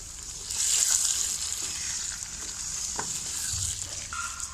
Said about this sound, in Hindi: अब हम चिकन को 2 मिनट भून लेंगे।